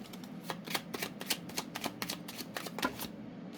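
Tarot cards being shuffled by hand, a close, rapid series of crisp riffling flutters and soft slaps in an even rhythm, with no voices.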